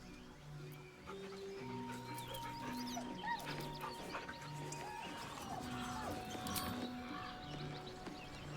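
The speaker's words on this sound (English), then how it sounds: "The dog whimpers nervously," A dog whimpers softly in Baldur's Gate 3, thin high whines rising over a quiet, faint bed of ambient music tones.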